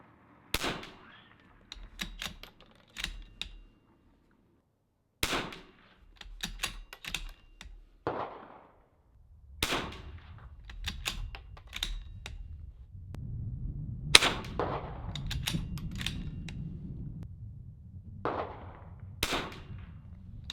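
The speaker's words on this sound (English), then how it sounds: "Here we go, 5 shots." Five .22 LR rifle shots with Lapua Long Range ammunition on a shooting range, each a sharp, close crack spaced several seconds apart, with quieter handling clicks between them.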